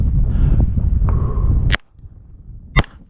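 Two sharp pistol shots at an outdoor shooting drill, loud and close, spaced about a second apart, the first over steady background noise and the second against near quiet.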